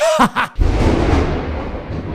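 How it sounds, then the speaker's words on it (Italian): After a brief voice, a loud deep crack of thunder breaks out and rolls into a long rumble that slowly fades. "Non so se l'avete sentito questo tuono"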